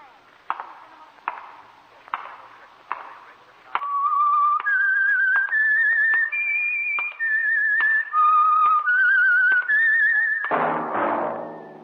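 A clear whistled theme melody of sustained, sliding notes from the 1953 radio drama The Whistler plays after several sharp knocks, ending in a noisy burst.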